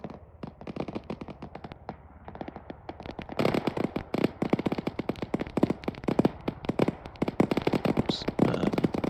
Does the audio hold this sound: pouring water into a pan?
no